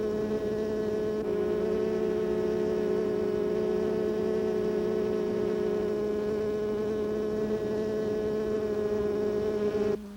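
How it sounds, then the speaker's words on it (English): Dense, steady buzzing drone of many honey bees fanning their wings to cool the hive, a sustained near hum with rich layered overtones that holds evenly for about ten seconds before cutting off. "The bees keep the hive cool by bringing in water and by flapping their wings to circulate the air."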